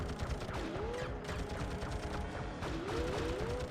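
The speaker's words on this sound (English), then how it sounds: "Yeah, he shoots at you a whole lot." Rapid enemy gunfire in the PS1 racing game Batman: Gotham City Racer, a dense fusillade of game shots sustained at steady loudness for a few seconds, with no one talking.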